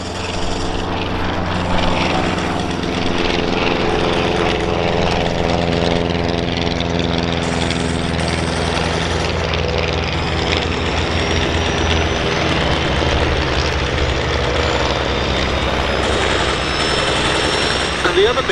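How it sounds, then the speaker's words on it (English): Loud, droning engines of First World War-style propeller biplanes roaring steadily overhead at the Duxford summer air show, a continuous buzzing rumble with a slight pitch shift as the planes pass. "as these little aeroplanes go through their paces"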